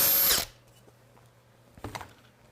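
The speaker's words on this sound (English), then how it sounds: "when you line up your drill bit, try to line up in the center of the hole as much as you can" A power drill whirs in a short loud burst driving a screw into a vehicle bumper, then stops, followed by faint clicks and a brief handling clatter.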